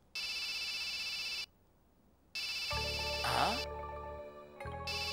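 A mobile phone rings with an incoming call, a bright repeating electronic ringtone in bursts with a brief gap, overlaid in the middle by a short musical jingle, sounding close and loud.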